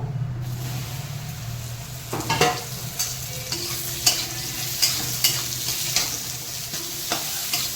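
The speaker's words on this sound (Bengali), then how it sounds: "আমার তেল গরম হয়ে গেছে মাশরুমগুলোকে আমি ভেজে নেবো" Mushrooms frying in hot oil in a pan, a steady close sizzle with several sharp scraping stirs of a utensil against the pan.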